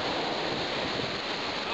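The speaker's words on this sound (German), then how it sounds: "Schau dich diese Wellen an." Ocean surf rushes and breaks continuously along a shore, a loud, steady wash of broadband water noise mixed with wind buffeting the microphone, with no clear gaps between waves.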